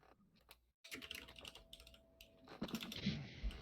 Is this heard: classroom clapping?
no